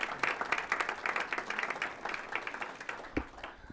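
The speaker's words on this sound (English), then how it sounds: "If we can have a round of applause for them." A school board meeting audience applauds a kindergarten group, steady rapid clapping from many hands that carries on for several seconds before tapering off.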